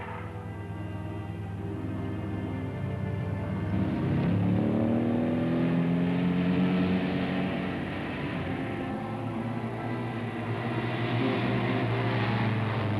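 A car drives along, its engine rising and falling through steady revs with a close, continuous hum in a 1960 Hong Kong drama setting.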